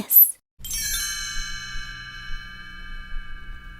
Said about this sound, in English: You will know it's time to turn the page when you hear the chimes ring